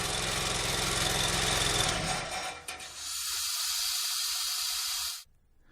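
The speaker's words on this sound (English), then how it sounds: "Upon bore completion, turn off the compressor and bleed off the air pressure." Compressed air bleeding off from the air hose of a Grundomat horizontal boring tool, a loud, close, steady hiss that shifts character midway and then cuts off abruptly, with no talking.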